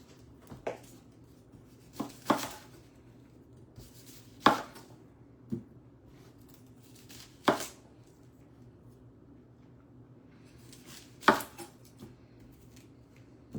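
A knife chops shallots on a cutting board in a quiet kitchen, with scattered sharp knocks at irregular intervals, some in quick pairs, over low background hum.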